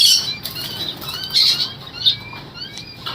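Pet birds in a pet bird shop, among them cockatiels, pineapple conures and African birds, flap their wings in several close, loud fluttering bursts, with faint chirps in between and no talking.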